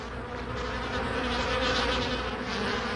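Honeybees buzz steadily inside a hive, a dense, continuous drone of many wings that holds at an even, fairly loud level throughout, with no voices.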